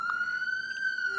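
An ambulance siren outside a hospital sounds as one steady, piercing high tone that holds without a break for just over a second, fairly loud and alone.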